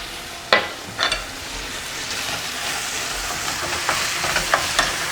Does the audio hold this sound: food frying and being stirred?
yes